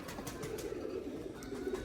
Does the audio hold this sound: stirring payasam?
no